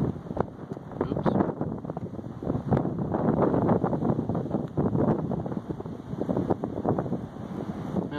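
Wind blows hard at the Kilauea eruption site in Leilani Estates, rumbling and buffeting the microphone near and loud and constantly surging over a few seconds, with faint talking underneath.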